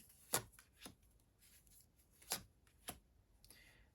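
A handful of sharp, quiet card snaps and slaps, spaced irregularly, as cards are shuffled and laid down in an otherwise quiet room.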